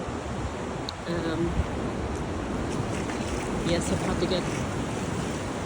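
Incoming tide washing onto Downhill beach at Benone, a steady broadband rush of surf with wind noise, continuous throughout, while someone speaks briefly over it.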